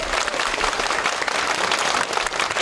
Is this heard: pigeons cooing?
no